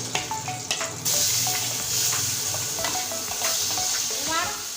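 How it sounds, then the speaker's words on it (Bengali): Pieces of fish frying in hot oil in a pan, a steady loud sizzle that jumps up partway through as more pieces drop in, with scattered light stirring scrapes on top. "এখানে যে বাকি মাছগুলো আছে এগুলো ছেড়ে দিচ্ছি তেলে"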